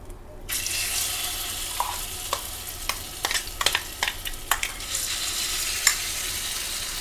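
Mashed banana sautéing in ghee in a pan, a steady close sizzle broken by a few sharp scraping stir strokes, with no voices.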